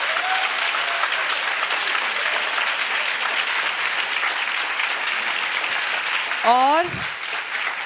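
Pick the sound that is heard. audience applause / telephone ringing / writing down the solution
audience applause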